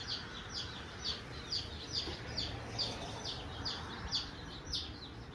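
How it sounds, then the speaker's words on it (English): Small chicks peep in a steady series of high, thin chirps, about two each second, over a soft background hiss. "These are our chickens. They're so cute. They're so little."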